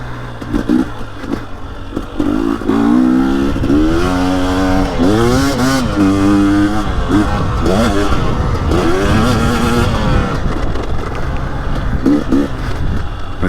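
A 2023 KTM 250XCW or Husky TX300 two-stroke dirt bike engine revs up and down repeatedly in close, loud rising and falling sweeps over a steady idle, with mechanical clatter.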